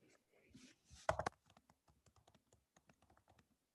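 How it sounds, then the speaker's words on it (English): Typing on a computer keyboard during an online meeting, a close, quiet run of irregular key clicks with one louder burst of keystrokes early on. "I see Kathy typing another question"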